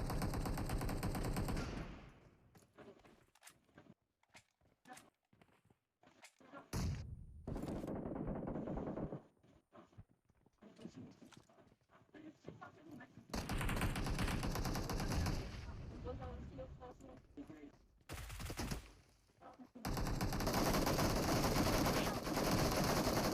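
UMP gun firing in the video game PUBG Mobile: long rapid automatic bursts, loud and close, broken by short pauses, with a voice speaking in the gaps.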